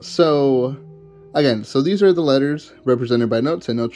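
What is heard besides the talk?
No everyday noises stand out.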